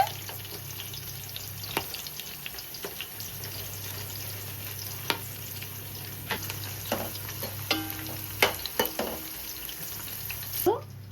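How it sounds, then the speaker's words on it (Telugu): Whole spices, split chillies and cashews fry in hot oil in a pan for a coconut milk chicken biryani, making a continuous close sizzle broken by scattered stirring scrapes and small pops. "ఇవన్నీ ఆగాలండి, బాగా వేగే వరకు మనం వేయించుకోవాలి"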